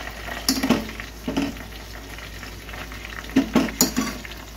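Food cooking slowly in oil over low heat, with a soft, steady sizzle broken by several short bursts of stirring or scraping in the pan.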